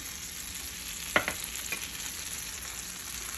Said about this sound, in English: All right, so I got my eggs on the skillet.